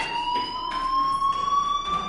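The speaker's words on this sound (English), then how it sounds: "do you hear that fire alarm? That means you should be outside." A fire alarm sounds in a video game, a steady high electronic tone with rising pitch that runs continuously throughout, loud and close with no talking.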